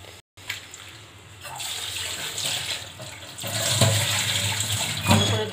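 Water running from a kitchen tap while ingredients are washed for a mango jelly pickle, a steady close rushing splash that grows louder and busier toward the end, with no voices.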